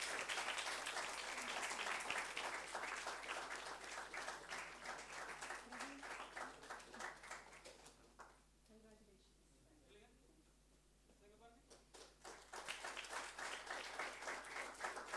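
Audience applause at an award ceremony for a hackathon and startup competition: dense, sustained clapping from a large crowd that fades briefly midway, then swells again, with voices mixed in.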